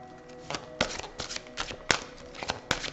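Tarot cards shuffled and dealt out by hand, a run of soft papery flicks and sharp slaps of cards landing at close range, with several louder snaps spaced irregularly and no talking.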